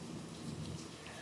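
Steady rain pours throughout while low thunder rumbles beneath it, a continuous close wash of rainfall with no voices.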